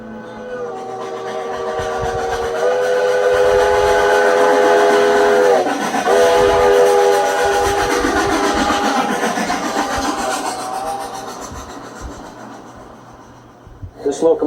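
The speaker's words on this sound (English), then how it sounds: "locomotives that are being used this morning to pull a train up to Cumbres Pass are classified as K36 series locomotives" A 1925 Baldwin K36 steam locomotive hauls a train toward Cumbres Pass, its chime whistle sounding long and loud for several seconds with a short break, over rumbling, chugging train noise and faint talk.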